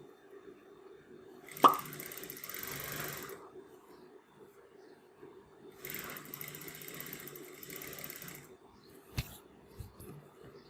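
Sewing machine stitching a kurti neckline slowly, two bursts of whirring stitching separated by quiet pauses with a soft knock, no talk.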